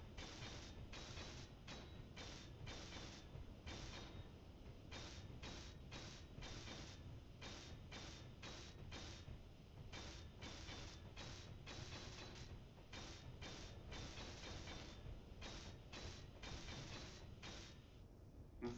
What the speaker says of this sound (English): let's go ahead and just finish welding this